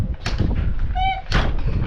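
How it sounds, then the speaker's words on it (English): An RV door swung shut and latched, a close thud followed by a brief creak and a second solid knock, with voices nearby. "The door works!"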